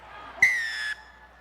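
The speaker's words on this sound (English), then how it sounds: "He's blown the short whistle" A rugby union referee in a Major League Rugby match between the Glendale Raptors and Austin Elite blows one short, sharp whistle blast lasting about half a second, loud and clear over a faint background of crowd and field noise.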